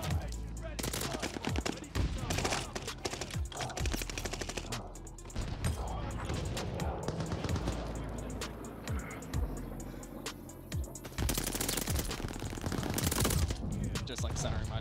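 Rapid automatic gunfire from a gun in the shooter video game Call of Duty: Vanguard, with loud, dense bursts and sharp individual shots running nearly throughout, mixed with game effects and some talk.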